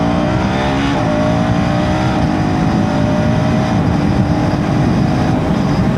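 A 2025 KTM Duke 250 motorcycle with an underbelly exhaust rides a U-turn through city streets, its engine droning steadily and loudly with a gently shifting pitch under constant wind rush.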